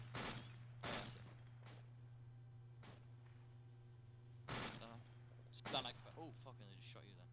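Gunfire in a first-person shooter game, with a few sharp, distant shots and bursts spaced through the clip over a steady low hum, while players talk in the background.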